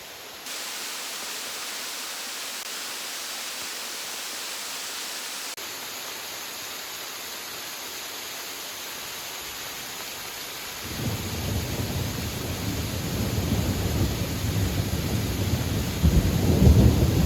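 Steady broadband rushing water from a waterfall on Whidbey Island, Washington, constant and fairly loud, growing heavier and more turbulent in the second half as if drawing closer to the falling water.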